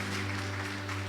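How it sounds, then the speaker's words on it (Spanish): Applause from a church congregation giving praise during a sermon, a brief steady wash of clapping over a low hum. "Aplausos al Señor."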